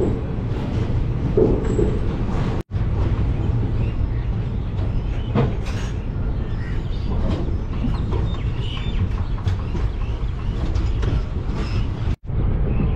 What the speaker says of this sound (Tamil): ஸோ அதனால் ட்ரெயின் இப்போ ரிவர்ஸில் போகும்.